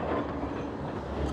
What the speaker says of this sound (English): as another tram comes along